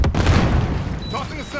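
A grenade blast in a first-person shooter game, a heavy booming burst that hits at once and rumbles down over a second, with a brief voice cutting in near the end.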